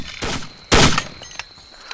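Two bursts of gunfire in the video game ArmA 2, a short shot followed by a louder, longer blast, both close and loud with a quiet tail after.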